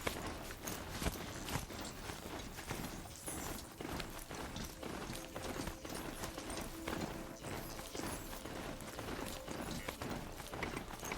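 Hooves of a horse-like machine mount clip-clop and scrabble unevenly over steep mountain slopes in Horizon Zero Dawn, a busy run of quiet, close footfalls with faint mechanical clinks and no voices.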